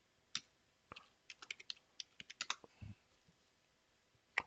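Typing on a computer keyboard: a quick run of light, uneven clicks and key taps, close and fairly quiet, with no voices.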